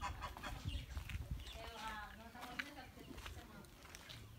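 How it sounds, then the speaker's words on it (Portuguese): Chickens cluck faintly on a rural farm in the Sergipe backcountry, soft clucks scattered under a person speaking nearby in a quiet outdoor setting. "Umas galinhas."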